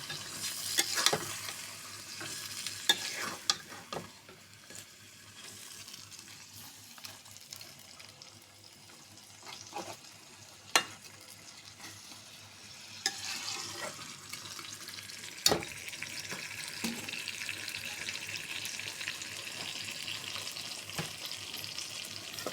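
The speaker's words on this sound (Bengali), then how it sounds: "সুন্দর করে নেড়ে চেড়ে কষিয়ে নেব।" Prawn curry being stirred and fried in a pan, a steady close sizzle with occasional sharp spoon taps and scrapes against the pan, rising slightly toward the end, with no talk.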